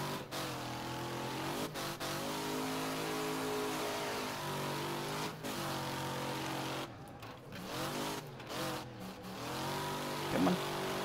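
A modded 605 HP car in Wreckfest held in a long slide through second and third gear, the engine droning steadily with pitch rising and falling through gear changes, brief tire and impact noises, loud and continuous without talk.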